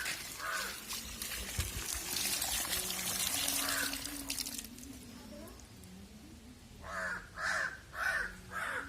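A crow caws repeatedly near an open water pipe, its harsh calls coming in a rhythmic burst toward the end over the hiss of running, pouring water.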